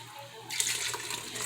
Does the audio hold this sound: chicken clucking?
no